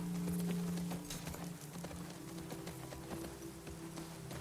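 Horse hooves in The Last of Us Part II clop steadily in a soft, even rhythm under a low continuous hum and a light, rain-like hiss of game ambience.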